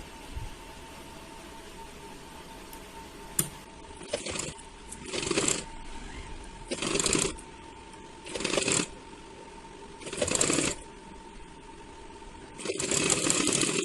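A sewing machine stitches folded piping on a princess-cut blouse in about six short bursts of a few seconds each, separated by quiet pauses, close and moderately loud.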